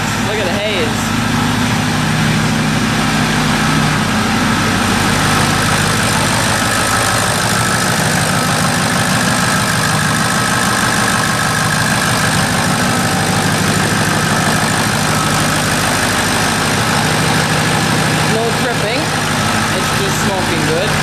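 A 2005 Ford F250 Lariat with the 6.0 Powerstroke diesel V8 idles steadily after a cold start following six months of sitting, a loud, continuous low chugging rumble with a rough, even rhythm throughout.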